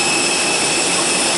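An AirAsia airliner's jet engine runs at the gate while passengers board by bus for a Bangkok to Hanoi flight, a loud, close, steady roar with a high whine.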